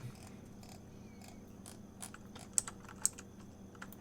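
Sparse keyboard typing in a quiet room, a scatter of soft key taps over low background hum, with two sharper clicks standing out near the end.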